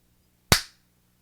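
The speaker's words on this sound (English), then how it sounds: "This Roman candle from the clean bathroom fireworks store." A Roman candle firework fires a single sharp, loud pop that fades quickly into near silence, with nothing else heard around it.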